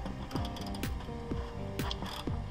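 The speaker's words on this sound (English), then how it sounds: "Remove all 4 bolts." A ratchet wrench loosening the bolts that hold a rear bumper to the cross member, giving steady repeated clicking bursts with a mechanical rattle, close and fairly loud.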